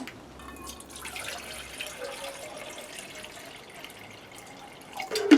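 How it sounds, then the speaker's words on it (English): A small stream of water trickles and splashes into a Jetboil stove pot, quiet and fairly close, ending with a brief louder clink. "I'll throw a little bit of water into this pot"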